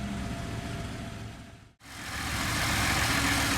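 A 2017 Ford F-150 XLT SuperCrew pickup with a 2.7 liter turbocharged EcoBoost V6 runs with a steady mid-low engine drone, briefly cutting out for a moment mid-clip before resuming louder and continuing close, with no talking.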